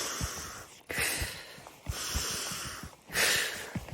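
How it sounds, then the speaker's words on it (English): Forceful gear 2 breathing exercise: three sharp nasal inhales followed by loud, rushing mouth exhales, close and rhythmic, with small snorting pulses between breaths. "Gear 2 breathing, in through the nose, out through the mouth."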